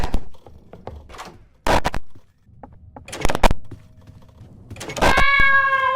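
A Roblox Doors Shadow entity sound effect, with scattered clicks and short bursts giving way to a loud, sustained, tonal, warbling cry that holds steady near the end.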